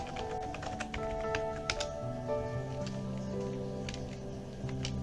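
An IP address is typed on a computer keyboard for router setup: soft, rapid key taps in uneven runs, steady throughout over a droning tonal background.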